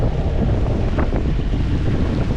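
Wind buffets the microphone on a small boat motoring dead into the wind at about one knot, with a steady rushing roar of wind and waves throughout.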